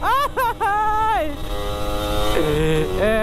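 A sport motorcycle in Makassar revs in short rising bursts, then holds a loud, buzzing drone that dips and climbs again as it accelerates nearby.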